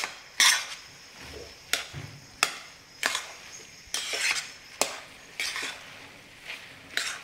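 Carrot halwa is stirred in milk in a pan over medium heat, with a spoon scraping and knocking against the metal about once a second in a steady rhythm, close up and fairly clear.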